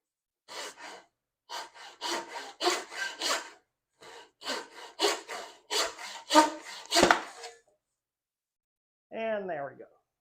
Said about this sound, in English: line it up in the bench hook with the crosscut saw.